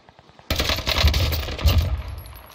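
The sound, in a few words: gunshots in an online video game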